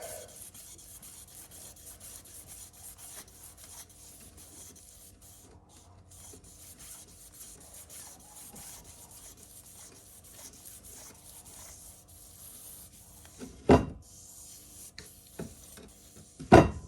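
Fine 2000-grit sandpaper rubs steadily over a surface while building a Yamaha F100 part, a faint, continuous rasping close by, broken near the end by a couple of sharp knocks.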